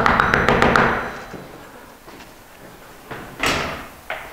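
A door in an apartment building is shut abruptly with a solid thud after a few quick taps and knocks, then some quieter bumps and a sharper knock follow.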